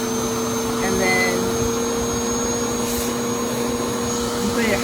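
A RevAir reverse-air hair dryer runs on setting 2, a loud, steady roaring whoosh with a constant tonal hum throughout, while a person speaks faintly beneath it.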